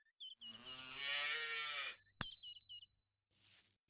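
A cow lets out one long, loud, drawn-out moo nearby, followed by a sharp crack and a fainter, shorter sound after it.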